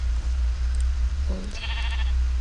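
A lamb in Minecraft gives a short, clear bleat with no one talking over it, heard once over steady low game background noise.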